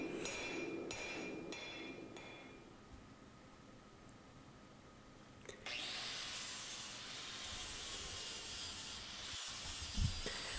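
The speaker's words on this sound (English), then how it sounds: "I kind of ground on this until I started to see, I could see a line where the mild steel of the canister ended" An angle grinder works on the mild steel of a forged canister, beginning with scraping and knocking, then rising into a steady bright grinding hiss that holds for several seconds close by.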